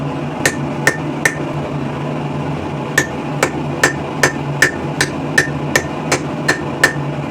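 Hammer blows drive a punch through hot steel at a blacksmith's anvil, forging a rivet header tool from scrap steel: a steady series of about a dozen sharp, ringing metallic strikes, evenly spaced, loud and close over a low background hum.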